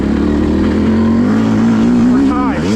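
A Yamaha YZ250 two-stroke dirt bike engine runs steadily on a woods trail at the Enoree OHV area, holding a buzzing drone and then revving up near the end, loud and close throughout.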